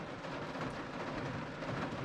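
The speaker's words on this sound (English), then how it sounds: "it's just the rain, lots of rain" Heavy rain falls outdoors in North Yorkshire, a dense, steady hiss and patter with a low rumbling undertone, continuous and close, with no voices.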